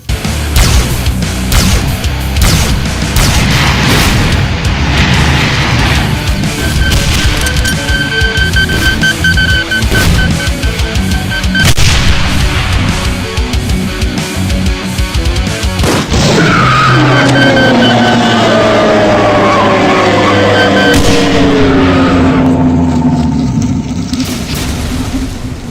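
Cyberdemon death explosions in a Doom mod game burst in a continuous loud barrage of booms and crackling blasts, followed by a long sweeping roar that fades out.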